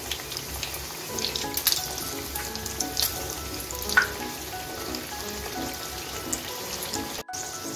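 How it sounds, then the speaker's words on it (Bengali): Pitha cakes fry in hot oil, a continuous soft crackling sizzle with scattered pops, close and steady, with no talking. "এভাবে লাল লাল করে পিঠাগুলো ভেজে নেব"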